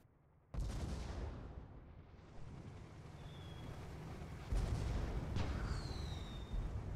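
Heavy video game gunfire and artillery-like booms rumble at a distance, a steady loud wash of shots with a sharper burst partway through, with no talk.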